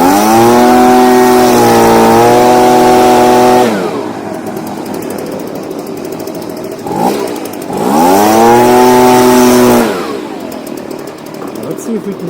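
A Stihl BG55 leaf blower with a newly replaced carburetor runs loud and close, its small two-stroke engine revving up in two long bursts and dropping back to a rough idle between them.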